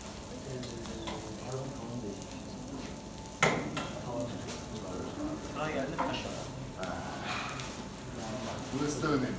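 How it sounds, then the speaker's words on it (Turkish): Tomato sautéing in oil in a pan for a spicy industrial-style toast filling, a steady close sizzle and frying hiss with stirring clatter, while people talk over it throughout. "Tomatomunu güzelce böyle yağda kavuruyoruz."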